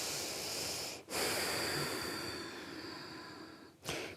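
Deep, full circular breathing in a relaxation exercise: long continuous airy inhales and exhales flowing into each other, close and loud, with brief pauses near the start and end.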